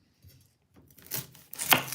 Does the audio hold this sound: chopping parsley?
yes